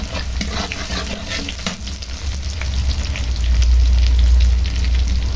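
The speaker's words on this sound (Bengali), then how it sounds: "যেহেতু সরিষার তেল, সেজন্য তেল গরম করে পেঁয়াজ দিয়ে দিলাম, গোটা রসুন, কাঁচা ঝাল" Onion, whole garlic and green chilies sizzle and fry in hot mustard oil in a pan, a loud, close, continuous crackle with stirring scrapes, growing denser toward the end, no voices.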